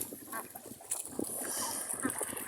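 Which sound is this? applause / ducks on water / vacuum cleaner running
ducks on water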